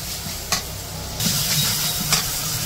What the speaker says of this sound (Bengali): পেঁয়াজ মরিচ ভাজা হলে পরে একটু আদা রসুন বাটা দিছে হলুদ মরিচ লবণ দিয়ে দিছে মশলাটা কষিয়ে